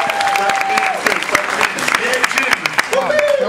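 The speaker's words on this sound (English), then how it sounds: "Clap for me. Come on," An audience claps at a special effects stage show at Universal Studios Hollywood, loose scattered clapping under a host's amplified talk, fairly close and moderately loud.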